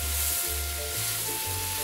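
Chopped tomatoes and small-cut green chillies sizzle in a hot pan for an aloo karela dish, a soft steady frying hiss over a prominent low electrical hum throughout.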